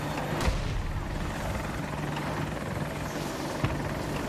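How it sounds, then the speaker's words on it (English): An attack helicopter in the shooter game Battlefield 2042, its rotor giving a constant heavy thrumming drone throughout, with a couple of sharp impacts or shots cutting through the din. "There's another chopper over there."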